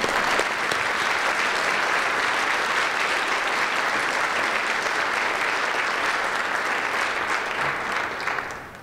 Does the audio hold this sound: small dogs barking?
no